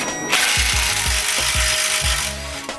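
Loud, rapid mechanical rattling from wrench work on a nut on a Nissan S13 subframe, with a crescent wrench in use. Short chattering bursts repeat in a steady rhythm close to the microphone, and no voices are heard.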